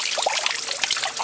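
Shower water trickles and splashes in a home bathroom where a baby is being bathed, a close, continuous patter with small irregular drips and bubbling.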